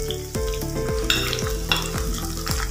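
Tomatoes sauté with onion and garlic in a hot pan, a steady sizzle broken by about eight rhythmic spoon scrapes and stirs, close and fairly loud.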